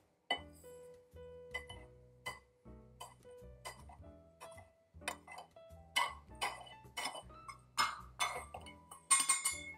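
Metal spoon scooping cold brew coffee into a glass jar at home, a steady run of sharp clinks and taps against the glass, close and fairly loud, with some clatter between strikes.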